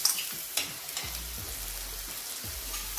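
Tomato and onion fry in a pan with a steady soft sizzle, broken by a few stirring clicks and scrapes, and no voices.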